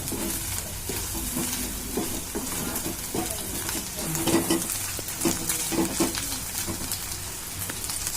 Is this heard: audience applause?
no